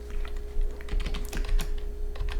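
CSS code being typed on a computer keyboard, a quick irregular run of close, light key clicks over a faint steady hum.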